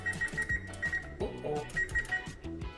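Someone sets a kitchen timer while acorn squash goes into a 400-degree oven. Its electronic beeps come close and clear, in short repeated groups, with small clicks and taps between them.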